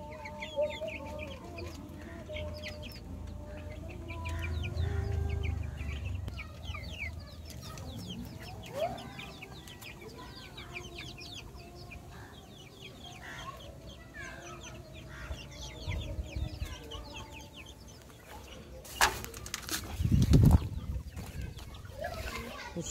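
Fifteen backyard chickens cluck softly and intermittently while feeding, a close, low-level stream of scattered clucks and rustling, with a louder burst of clucks and clatter near the end.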